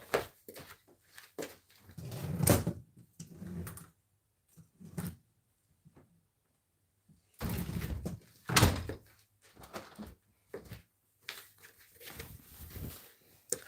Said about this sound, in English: I had to close the door.